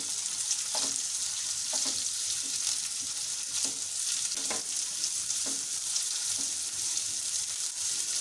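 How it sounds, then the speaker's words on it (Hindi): Half a capsicum, cut into cubes with onion, fries in a pan with a constant light sizzle and periodic stirring scrapes, close but quiet. "हाफ कैप्सिकम डाल रही हूँ। इसको थोड़ा फ्राई करना है"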